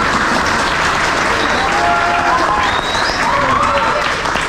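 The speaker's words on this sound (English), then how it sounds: "maybe some applause for James." An audience at a roller coaster design presentation at Kings Island gives loud, sustained applause for a presenter. The clapping stays full and even throughout, with faint crowd voices and a whistle or two mixed in.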